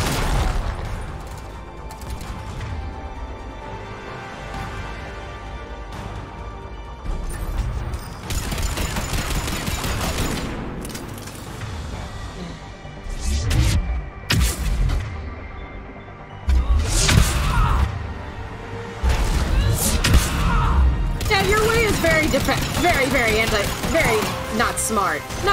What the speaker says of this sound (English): Armor piercing rounds.